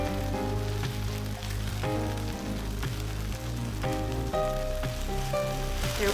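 Egg scrambling in a hot pan with a pinch of salt, a steady crackling sizzle that runs continuously under faint background music, with no one speaking.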